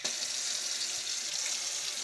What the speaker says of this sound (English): So I'm going to add to that just about here, water.